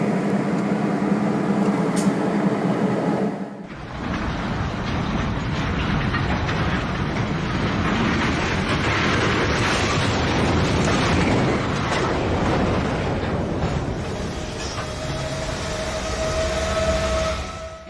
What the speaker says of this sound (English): A derailment like this shows how fast things can go wrong.